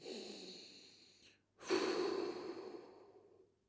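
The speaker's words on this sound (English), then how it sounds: "So I'm going to focus on my breathing." Controlled breathing during a glute and groin mobility stretch: a long slow close exhale, a brief pause, then a deeper audible breath, heard alone.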